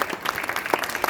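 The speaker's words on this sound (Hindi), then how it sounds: "ताली बजाओ सब।" A short spell of clapping from a group in a room, a brief patter of scattered hand claps, close and moderately loud.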